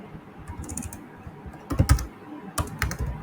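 Typing on a laptop keyboard with faulty keys: soft irregular key clicks run throughout, with two louder bursts of quick keystrokes near the end, close and alone.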